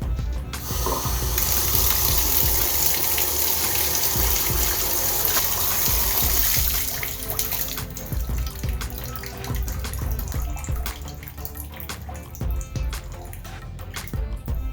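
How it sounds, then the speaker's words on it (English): Water gushes and runs steadily into a clogged sink drain, a loud continuous wash for most of the span that eases to a lower, gurgling flow near the end, with no talking. "That should be draining a heck of a lot better."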